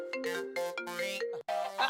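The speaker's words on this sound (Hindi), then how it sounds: "एक मिनट तू चालू रखो, मेरा दूसरा फोन आया।" A mobile phone ringtone announcing an incoming second call during an ongoing phone conversation, a bright, loud melodic tune played alone in repeating phrases with a brief gap near the end.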